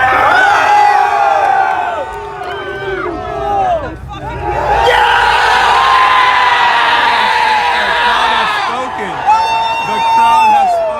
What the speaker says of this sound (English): The crowd has spoken.